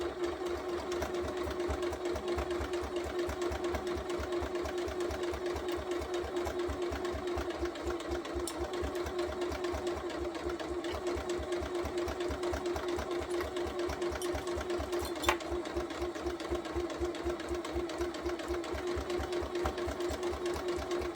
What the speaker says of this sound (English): I'm now going to take it over the sewing machine and use a 1/4 inch seam allowance, sew all the way down to the point and stop.